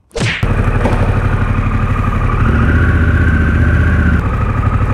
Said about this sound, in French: Me voilà sur une Harley